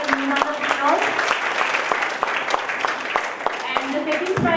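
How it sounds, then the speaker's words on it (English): Audience applause for a poster presentation prize winner at a university conference, with steady crowd clapping and a few sharp nearby claps while someone speaks over it. "Please give her a round of applause."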